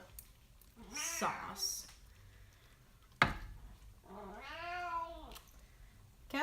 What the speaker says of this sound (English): Cat's very talky right now.